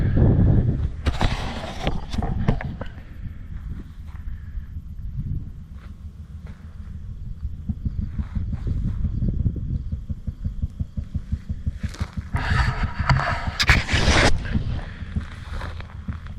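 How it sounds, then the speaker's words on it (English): A small engine runs at a nearby oil well site in open country in western Oklahoma. It makes a steady, low putt-putt throb that continues through the whole stretch, with wind noise rising and falling over it. "there's a oil location and some kind of engine thing going putt-putt"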